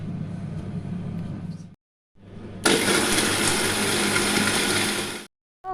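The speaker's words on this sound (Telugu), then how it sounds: "మిక్సీ పట్టాలండి." A mixer grinder whirs through almonds and cashews in bursts: a steady motor drone, a short pause, then a louder, brighter grinding run that cuts off abruptly, followed by a brief restart.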